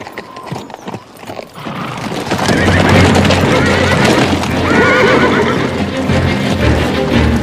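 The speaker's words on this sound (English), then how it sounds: "These are the pack horses Josh had with him, aren't they?" Pack horses in a Western setting whinny and clip-clop, with a few hoof and rustling sounds at first, then a loud, busy stretch of neighing and trampling hooves close by.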